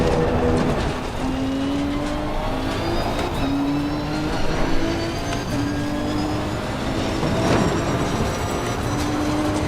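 A Nissan GT-R driven in Assetto Corsa Competizione on the Nordschleife, engine droning and rising through repeated gear changes with a steady harmonic whine, close and continuous with no talk.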